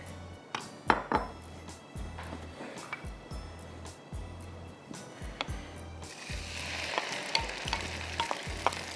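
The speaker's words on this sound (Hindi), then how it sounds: "तो थोड़ा सा फ्राई करेंगे ताकि इसका कच्चापन निकल जाए।" Blended onion paste fries in a pan for Murgh Nargisi, with a sizzle that grows louder toward the end and regular spoon scrapes against the metal, nearby and without speech.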